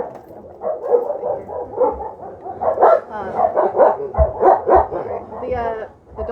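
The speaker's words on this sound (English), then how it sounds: "I've got someone coming in, so the dogs are going to bark" Several dogs bark excitedly at a visitor entering a shelter office, a rapid overlapping chorus of barks and yips that continues loudly and close throughout.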